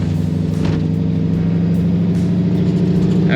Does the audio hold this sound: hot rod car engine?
yes